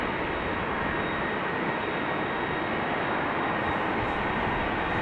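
A Finnair Airbus A350 at Amsterdam Schiphol airport gives off a steady, broad jet-engine roar, constant and moderately distant, with no voices.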